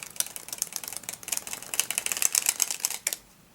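Playing cards shoot one at a time off the thumb in a card dribble, a rapid close patter of crisp flicks that stops abruptly near the end.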